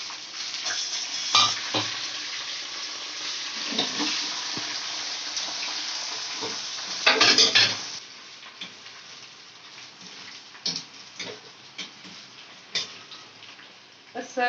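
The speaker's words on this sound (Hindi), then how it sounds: "मिर्ची, ये हम इसमें फ्राई कर लेंगे।" Steady oil sizzle from frying curry leaves, garlic and chillies fills the clip, with occasional bursts of louder crackling and spattering plus light stirring clatter.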